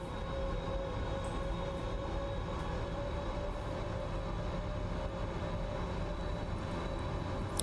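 A PMDG Boeing 777 coming in to land in Microsoft Flight Simulator 2024, a steady cockpit engine drone with a faint whine, with no talking and occasional soft clicks.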